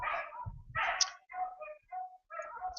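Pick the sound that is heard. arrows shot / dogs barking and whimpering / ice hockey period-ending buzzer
dogs barking and whimpering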